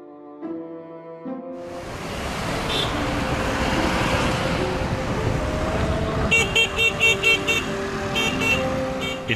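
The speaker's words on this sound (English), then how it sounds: "The idyll of the countryside had to give way to the noisy motor vehicles" Busy motor traffic on a street in Yangshuo town, China: a steady roar of passing vehicles with repeated short horn toots near the end, preceded by a brief musical tone at the start.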